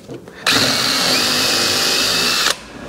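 A power drill whines steadily for about two seconds, boring into the end of a 2x6 wooden board for a lag bolt, loud and close, starting and stopping abruptly.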